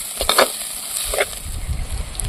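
Drumstick leaves sauté in oil for chutney, giving a soft, steady sizzle with a few brief stirring scrapes and clinks near the start and middle.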